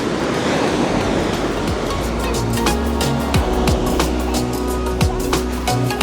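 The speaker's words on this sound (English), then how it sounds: "I'm gonna nip down, and get a closer look at those waves there." Ocean surf on an Algarve beach in Portugal rolls and crashes in a continuous close roar, with wind buffeting the microphone and no one speaking.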